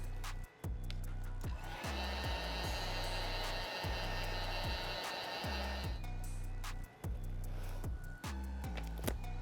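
A heat blower runs steadily inside a Jordan 1 Travis Scott Reverse Mocha sneaker to loosen the insole, a broad loud whoosh through the middle of the clip, with rhythmic rubbing and handling noises and a low hum throughout.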